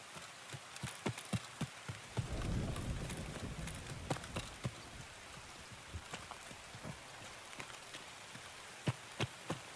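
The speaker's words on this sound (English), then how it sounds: "It's always raining." Rain falls in the video game Escape from Tarkov as a steady hiss, broken by a run of sharp, irregular taps and footstep-like knocks, with a swell of low rumble partway through.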